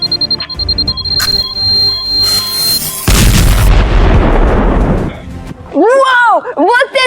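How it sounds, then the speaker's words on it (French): A cartoonish bomb explosion in a LEGO Italian Brainrot toy-set play scene: a sudden loud broadband blast at about three seconds that roars for roughly two seconds and then fades, followed by squeaky, high-pitched cartoon voices. "T'as activé la bombe."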